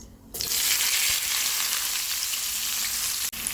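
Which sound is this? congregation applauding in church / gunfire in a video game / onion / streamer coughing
onion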